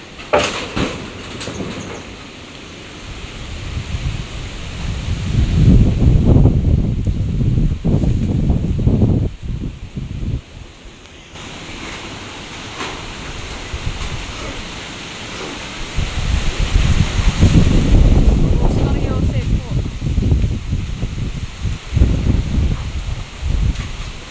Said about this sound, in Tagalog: At malakas nga po ang hangin.